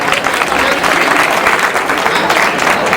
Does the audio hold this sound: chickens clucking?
no